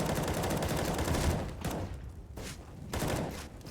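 P250 pistol fire in a professional CS:GO match on Vertigo, a dense spell of rapid overlapping shots with a few sharper bursts, loud and close amid game noise, no talk.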